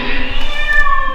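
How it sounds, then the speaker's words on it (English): A cat screams and meows in a harsh, drawn-out wail, loud and close over steady street noise in Liverpool. "I keep hearing a cat screaming"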